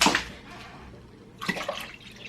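Water pours into vinegar for refrigerator pickle brine, a close splashing gush at the start and a second brief burst of pouring with sloshing about halfway through.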